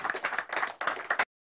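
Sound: audience clapping

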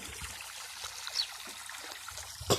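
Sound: water from a solar pump flowing into a pond

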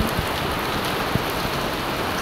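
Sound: heavy rain

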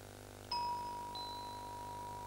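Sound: gong signalling 30 seconds left at weightlifting championship

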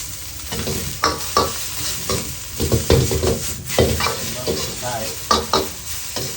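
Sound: stir-frying shrimp pad thai with bean sprouts

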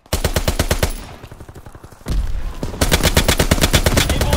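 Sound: gunfire in Call of Duty: WWII video game

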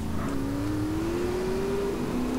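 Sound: motorcycle engine revving in a race in GTA San Andreas, a video game

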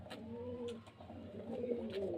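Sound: pigeons cooing at a pigeon seller's place

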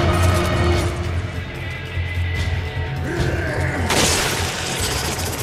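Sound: weapon reloading in the video game Resident Evil 5

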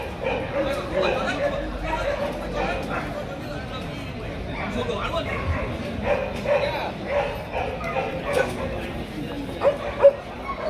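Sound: Vietnamese Bac Ha dogs barking and whimpering

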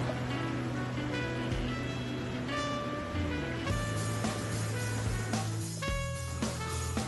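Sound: fast running river water in Cataract Gorge

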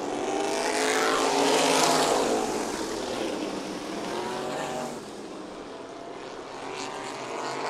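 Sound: supermodified race cars racing at Meridian Speedway

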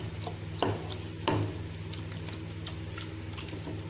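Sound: tuna fish stirred into frying masala

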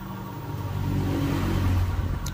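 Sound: electric scooter motor running

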